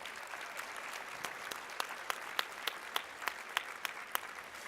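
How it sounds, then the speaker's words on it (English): Applause from a conference audience at an opening session: many hands clapping together in a steady, rhythmic patter, with a few sharper claps standing out near the front and no speech over it. "I think she deserves another round of applause."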